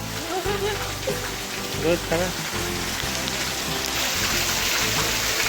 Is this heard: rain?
yes